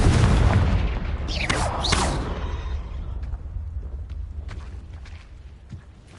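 A Confringo fire spell explodes in a Wizarding World video game, a loud deep boom at the start with whooshing rises, then a long rumbling decay and faint crackles fading out, no voices.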